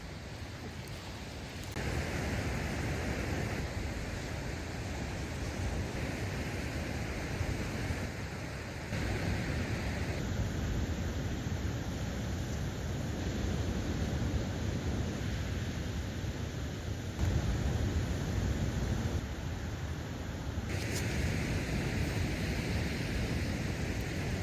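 Ocean surf on the Lost Coast Trail, a steady, broad wash of breaking waves that holds close and loud for the whole stretch, with wind noise mixed in and no voices.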